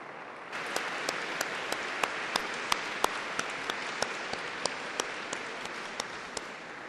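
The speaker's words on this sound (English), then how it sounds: "enthusiastic round of applause" Enthusiastic applause rises from the crowd at a university graduation ceremony and holds as a steady, even wash of many hands clapping, with a few louder individual claps standing out.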